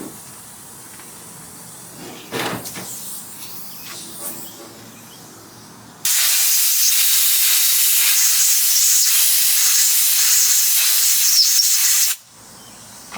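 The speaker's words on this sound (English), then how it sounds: "Talk about your carbonated drink." Carbonated drink hissing loudly and steadily for several seconds, a sharp broadband fizz that starts abruptly and cuts off, preceded by quieter handling sounds.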